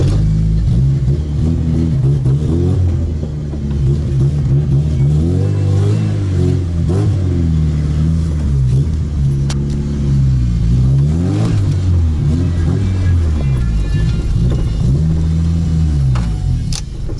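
An Opel Corsa A GSI race car engine revs and accelerates repeatedly, loud and close, with rising and falling engine pitch swells and some mechanical clatter, no speech.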